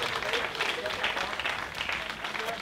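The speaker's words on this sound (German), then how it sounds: "Und jetzt nochmal ein großer Applaus für die drei Erstplatzierten." A crowd at a cycling race awards ceremony claps steadily for the top three finishers, a continuous, moderately distant patter of hands with no break.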